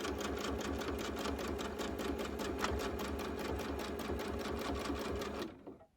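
A sewing machine quilting a baby quilt runs in a steady, rapid stitching rhythm at close range, then comes to a stop just before the end.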